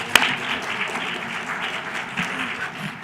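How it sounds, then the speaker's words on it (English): Steady audience applause at the 2015 Shepard Symposium panel on marriage equality, continuous mid-level clapping throughout with one sharp near clap at the start. "I want to give them a round of applause and thank them for coming today"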